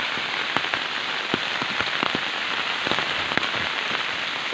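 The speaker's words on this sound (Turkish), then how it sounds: "Gördüğünüz gibi güzel yağmur yağıyor." Steady rain pours over a village in Diyarbakır's Çüngüş district, a dense close hiss with scattered sharper drops pattering on hard surfaces throughout, with no voices.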